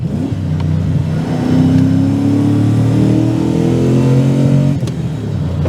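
A V8-swapped R34 Nissan Skyline accelerates steadily, its deep rumble rising in pitch for several seconds before easing off, loud and close with no talking.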